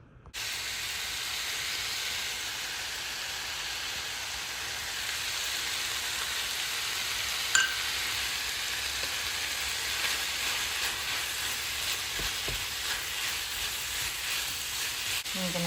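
Pizza filling cooking in a pan on the stove, a steady hissing sizzle heard close and continuous, with a brief clink partway through.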